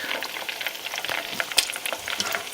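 Egg rolls frying in hot oil give off a steady, crackling sizzle full of bright popping spatters, with one sharper pop partway through and no voices.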